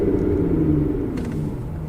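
An Aston Martin Vanquish shifts down from fourth to first gear, a smooth, low engine rumble with a brief rise in revs partway through and no clunks.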